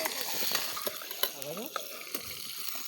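Chopped onions sizzle and fry in a pan while being stirred during outdoor cooking of pasta in a farm field. A steady, close crackle runs throughout, broken by irregular scraping and clinking from the stirring.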